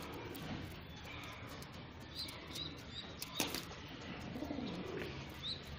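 Pigeons at a freshly set feeder give soft low coos and a burst of wing flaps, with a faint chirp or two, close by amid quiet background noise.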